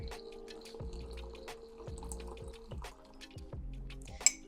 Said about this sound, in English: And I pour in some hot water.